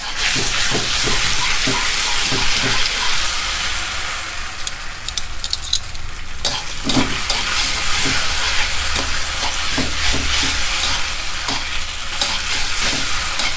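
Marinated pork sizzles and fries steadily in a hot wok, a continuous loud crackling hiss broken by repeated scraping clicks of a spatula stirring, with no voices.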